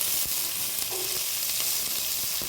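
Onions fry in a pan in a steady, dense sizzle that carries on without a break, close by and moderately loud, with no voices over it.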